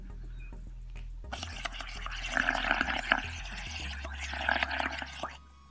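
Bubbling gurgles blown through a straw into soapy water, close and fairly soft, starting after a quiet moment and continuing in uneven bursts before stopping.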